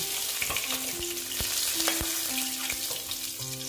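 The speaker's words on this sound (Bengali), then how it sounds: "মোটামুটি আলুগুলো ভাজা হয়ে গেছে" Potatoes fry in hot oil with a steady close sizzle, broken by several sharp scrapes and clacks of a spatula against the pan and a few tonal clinks, with no one talking.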